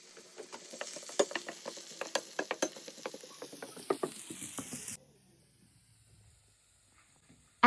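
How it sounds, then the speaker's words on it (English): Chopped ginger and garlic fry in hot oil in a large pot, crackling and sizzling busily with spatula scrapes for about five seconds before the sound abruptly drops to near quiet. "Fry the chopped ginger garlic."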